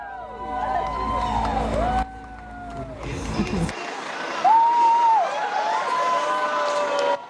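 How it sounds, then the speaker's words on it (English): A crowd of well-wishers at Baikonur Cosmodrome cheers and calls out to the Soyuz MS-25 crew. The cheering is mixed with shouts and whistles, and voices are heard throughout. "a large crowd of well-wishers 2 days after that first launch attempt, still on the scene, greeting the crew"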